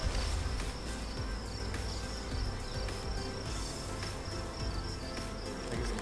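Steady, close drone of honey bees flying in and out around several hives, a dense unbroken buzz with individual insects zipping past now and then, and no voices.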